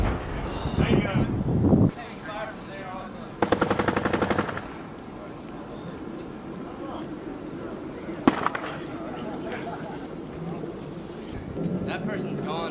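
Automatic gunfire from Marines fighting in Afghanistan: a rapid rattling burst at the start, a second burst a few seconds later and an isolated crack, heard at a moderate distance amid outdoor rumble, with people talking throughout.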